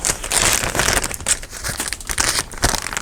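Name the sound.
crinkling plastic packaging pressed over a napkin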